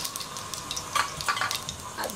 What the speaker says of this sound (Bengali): দিলাম তেল, দিলাম জিরে ফোড়নে